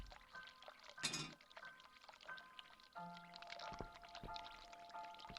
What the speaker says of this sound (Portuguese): Tô ouvindo um som de água